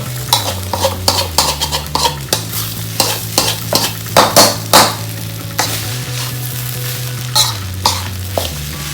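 Field rat meat stir-fried with holy basil sizzles steadily in a hot pan while a utensil scrapes and clacks against it in repeated stirring strokes, close and loud.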